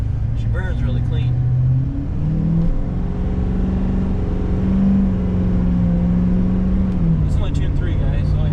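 An L5P Duramax diesel pickup with an Allison 6-speed transmission pulls under about half throttle, its engine drone rising steadily in pitch and then dropping as the gearbox shifts, while someone talks over it from inside the cab.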